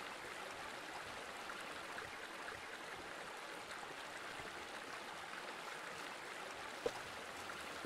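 Flowing stream of water in Eastshade gives a steady, soft hiss and babble, faint and even throughout with no speech, broken only by a tiny click near the end.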